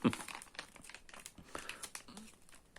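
A crinkly wrapper on an Eti Süt Burger snack is torn open close up, with a sharp initial rip followed by continuous plastic crinkling and a few faint voice sounds.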